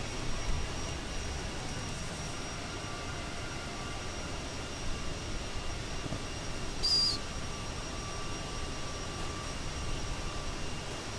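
Light aircraft climbing at 16,000 feet on a flight from Salt Lake City toward Austin; a constant, steady broadband cabin drone with a faint whine, unchanging throughout.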